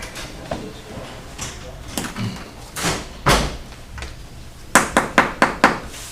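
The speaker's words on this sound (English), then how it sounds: "I'm gonna shut the door real quick" A door is pushed shut in a town meeting room before a zoning board session, giving scattered thumps and shuffling followed by a quick run of sharp knocks near the end.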